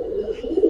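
Pet pigeons kept at home give a short, low, continuous coo close by, heard alone for under a second.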